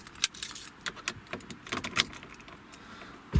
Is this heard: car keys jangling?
yes